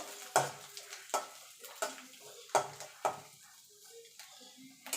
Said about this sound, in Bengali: নারকেলটাকে একটুখানি ভাজা ভাজা করে নেব